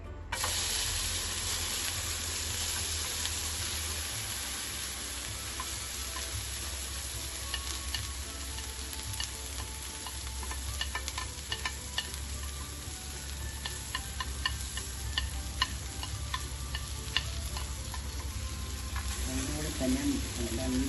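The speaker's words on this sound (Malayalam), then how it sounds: "എണ്ണ ചൂടാകുമ്പോൾ നമ്മൾ വെണ്ടയ്ക്ക ഇടുന്നു." Okra (ladies finger) frying in hot oil in a non-stick pan, a steady soft sizzle with faint scraping and stirring clicks, fairly quiet and continuous throughout.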